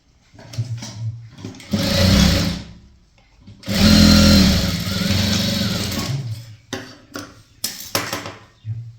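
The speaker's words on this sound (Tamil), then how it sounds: "ரெண்டு தையல் போட்டுக்கோங்க அப்போ தான் நல்லாயிருக்கும்" A sewing machine stitches the shoulder seam of a maxi dress in several short, loud whirring bursts separated by brief pauses and small handling noises.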